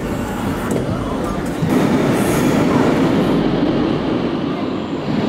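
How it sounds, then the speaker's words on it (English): A metro train rolls through a station in Venezuela, a steady loud rumble of wheels and carriages that swells slightly midway and holds close by for several seconds, with no talk over it. "now the train passed and it was empty"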